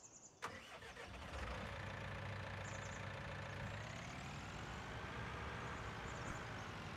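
A big tractor engine in a farming game set on Smokey Mountain for logging, with a winch, cranks over and settles into a steady, droning run that holds loud and even throughout.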